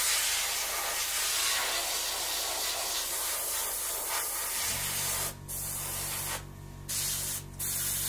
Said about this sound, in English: we're just going to squirt some heavy bits on anywhere there's like a hole or a vent or anything else like that.